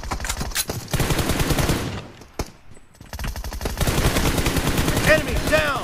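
Rapid automatic gunfire bursts from a shooter video game, loud and dense, briefly pausing before resuming with more rattling shots and electronic game effects, with a player voice calling out over the action.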